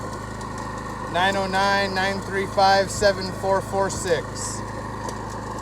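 Rented 2020 Honda rototiller engine running in a yard, a steady mid-pitched idling hum underneath someone talking over it.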